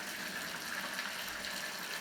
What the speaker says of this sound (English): We add a little bit of water to loosen it.